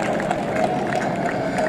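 Steady applause and clapping from an audience at the Ransi horse show, dense and continuous, with a voice speaking over it.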